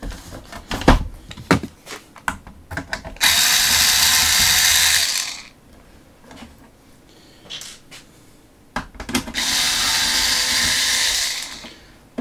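Two sustained whirring runs of a power screwdriver driving screws, each lasting a couple of seconds, close and prominent, separated by handling clicks and knocks.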